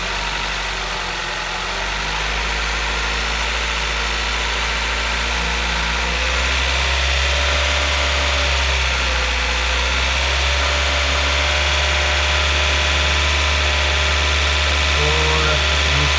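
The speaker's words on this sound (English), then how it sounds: "We could go ahead and rev it." A car engine idles steadily at close range during a cooling system check, a continuous low hum and drone with a slight rise in level over time, no talking.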